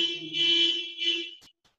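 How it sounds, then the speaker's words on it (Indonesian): A car alarm goes off outside during an online talk, a piercing high electronic tone swelling and dipping in two long pulses before cutting off, heard at a distance with no one speaking over it. "Ya, ada mobil ini yang kena alarm ya."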